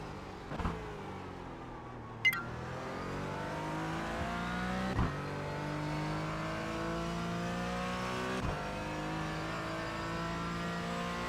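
iRacing race car braking hard into a turn, revs falling in steps with sharp downshift blips, then the engine pitch sweeping upward on acceleration; a loud, near, unbroken engine drone with no speech.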